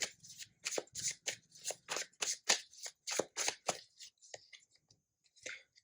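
Tarot cards shuffled by hand during a reading: a quick run of crisp riffling flicks for about four seconds, then a few softer scattered card slides and taps, close and fairly quiet, with no talking.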